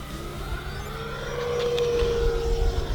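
An E-Flite Viper 90mm electric ducted-fan RC jet flying Cuban 8 manoeuvres, its steady high whine rising in pitch and loudness as it passes, heard outdoors over a continuous low rumble.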